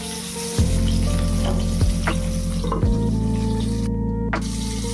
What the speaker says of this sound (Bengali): আর এখন এই যে বেগুনটা ভেজে নিচ্ছি।